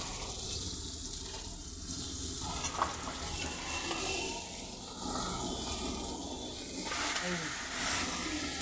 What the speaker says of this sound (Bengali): এইভাবে উল্টে উল্টে আমি করছি একটা দিক ভাজা হয়ে গেলে আর একটা দিক ভাজা হবে